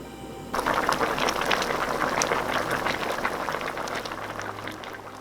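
Braised pork backbone with minced ginger, garlic and pepper simmers over medium heat, a dense steady bubbling that starts abruptly and continues, close and fairly loud, with no talking.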